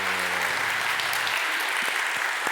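A church congregation gives a dense, steady round of applause for a bride and groom during a Sunday service, continuous clapping filling the room.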